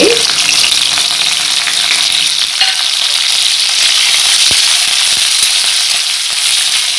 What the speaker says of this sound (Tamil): பொரியிற நிலையில் இருக்குங்க கடலைப்பருப்பு செவக்க போகுது